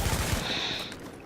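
Gunfire from a turret in a video game base camp, a quick burst of sharp shots at the start followed by a sustained noisy rush, no talking.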